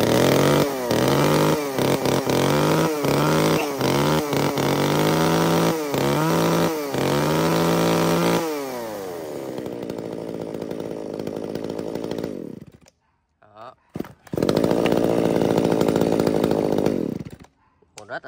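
A used Japanese mini chainsaw's two-stroke engine fires and runs, first with rhythmic revving pulses, then settling to a steady idle, cutting out briefly and roaring back loud and close before stopping.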